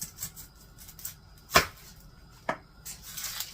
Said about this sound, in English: I'm going to chop up an onion.